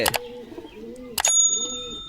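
A white-eyed green pigeon coos in soft, repeated low phrases, broken by two sharp bursts of noise, with a high thin tone in the background.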